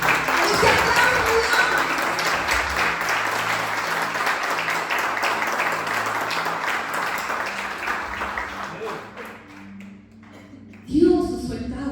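A church congregation breaks into sustained applause during a sermon, dense clapping holding steady for about ten seconds before thinning out, followed by a brief burst of other sound at the end.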